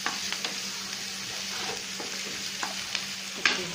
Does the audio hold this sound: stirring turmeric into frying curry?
yes